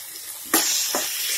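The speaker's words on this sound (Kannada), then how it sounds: "ಈಗ ಫ್ರೈ ಆಗ್ತಾಯಿದೆ." Brinjal palya, a North Karnataka eggplant dish seasoned with salt, sizzling in a pan, a steady hiss of frying with two brief bursts as the vegetables are stirred.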